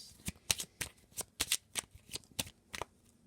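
Tarot cards being shuffled by hand in quick riffling bursts, about a dozen crisp close flutters and slaps in an irregular rhythm, with no talking over them.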